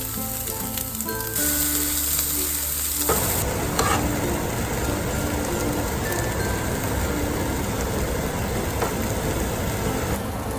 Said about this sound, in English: Next is to fry up the garlic and the pepper together.